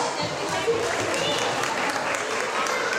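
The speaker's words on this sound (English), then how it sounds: "Let's give our choreographer, Adoring Thunderous, a round of applause." An audience applauds a choreographer at a dance anniversary event, a dense, steady roar of clapping that holds at full strength throughout, with a crowd murmuring beneath it.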